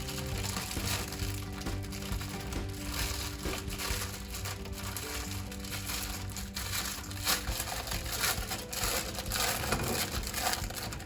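A plastic bag holding bean sprouts crinkles and rustles steadily as it is handled close up in a kitchen while refrigerator food is being stored, the crackling dense and continuous throughout with no talk.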